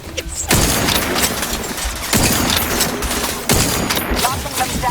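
Sustained gunfire from The Outer Worlds 2 video game, a dense automatic fusillade with heavy booming bursts recurring roughly every one and a half seconds, loud and close, with no talk over it.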